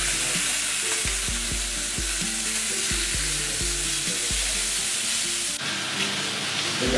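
Olive oil sizzles steadily in a hot pan on the stove, a dense broadband hiss carrying on throughout with faint clinks and low bumps of cookware underneath.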